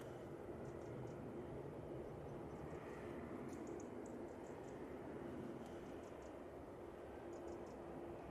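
A Boeing 737-800 lined up on the runway at Manchester Airport gives off a steady, distant jet engine drone that holds evenly throughout, with faint chirps of birds scattered above it.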